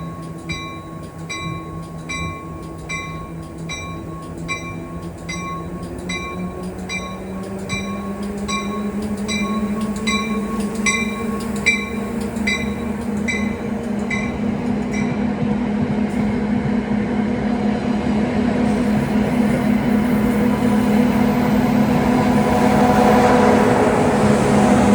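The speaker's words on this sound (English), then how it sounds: "We have a train heading into Hoboken here." A New Jersey Transit train heading into Hoboken, with an ALP45DP locomotive on the rear, rumbles past nearby, a steady rolling roar that swells and grows louder over time, with a high, steady whine above it and no voices.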